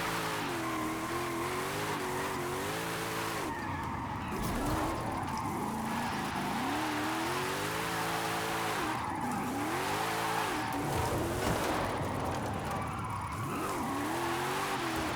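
Engine revving hard with tire squeal as a powerful car drifts with little traction in the Forza Horizon 5 racing game, the pitch rising and falling in repeated sweeps through long slides, loud and continuous.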